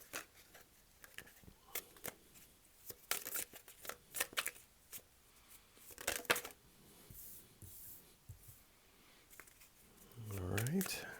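Tarot cards are shuffled and split into piles, giving a run of crisp paper riffles, flicks and taps at an uneven pace, with a voice talking over parts of it.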